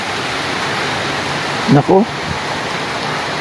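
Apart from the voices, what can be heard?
strong wind and heavy rain during a storm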